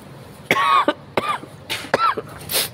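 A person with a cold coughs several times in close succession, four or five sharp, raspy coughs with short gaps, close to the microphone with no talking.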